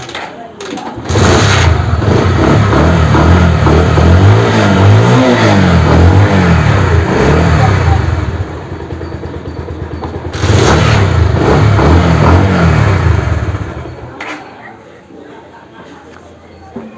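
A Bajaj Pulsar BS4 motorcycle fitted with a side-stand engine cutoff sensor starts and revs loudly in two long bursts, the engine settling to a lower idle between them and dropping off near the end.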